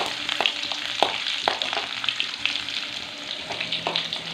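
Finely chopped ginger frying in hot oil, a steady close sizzle broken by small pops and stirring clicks, with no voices.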